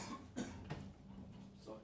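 A couple of short coughs from a person, fairly soft, with a bit of muffled voice around them.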